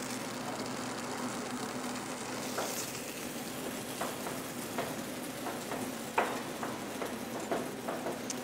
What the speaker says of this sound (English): At this time here, gonna be sauteing out my